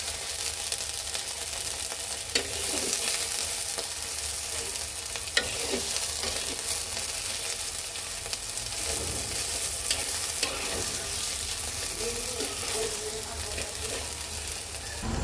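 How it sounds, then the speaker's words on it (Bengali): Chopped onion fries with ground cumin in a pan, giving a steady, even sizzle broken by scattered scrapes and clicks of stirring. "পেঁয়াজটাকে সুন্দর করে ভেজে নেব।"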